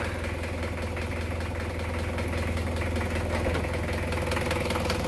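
A 1999 Mitsubishi Kuda GLS diesel engine idles steadily nearby, a constant low rumbling drone with a rhythmic clatter and no voices.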